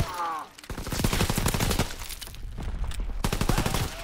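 Rapid bursts of automatic gunfire ring out in a World War II video game match, dense volleys of shots that pause briefly and then resume, with a voice speaking faintly near the start.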